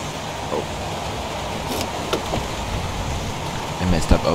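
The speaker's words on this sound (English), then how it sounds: "Jesus, that rain was very loud." Steady, loud rain in the video game Heavy Rain, a dense continuous wash with a few brief knocks and clicks on top, no talking.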